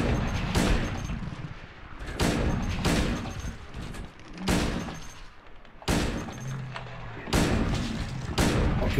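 Gunfire in Silent Hill 2, about six sharp, loud shots spaced a second or two apart, each cracking out and decaying into a low rumble, with faint game ambience in between.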